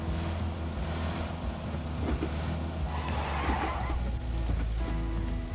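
A vehicle drives in a battle royale video game, with a steady engine rumble and road noise throughout and a brief skid-like rush in the middle, while a voice talks over it.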